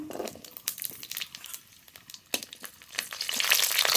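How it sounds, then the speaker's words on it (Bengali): Whole garlic cloves frying in mustard oil in a wok, with crackling sizzles and crinkly pops that build toward a denser, louder fry near the end. "রসুনটা একটু ভেজে নেব"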